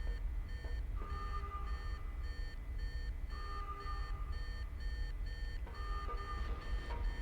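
An explosive's timer in the 2000 Blade video game beeps in a repeating electronic pattern of steady tones, looping several times over a constant low rumble of game ambience.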